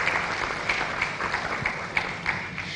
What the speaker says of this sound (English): Can we clap for him once again?